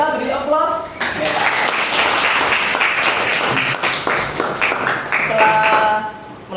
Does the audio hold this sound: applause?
yes